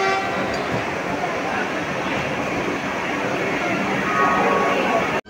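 A Vande Bharat train departing Howrah station, its horn sounding as faint tonal toots within a dense wash of platform and carriage noise, with indistinct voices in the background.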